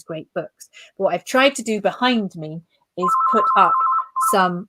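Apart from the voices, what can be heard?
mobile phone ringing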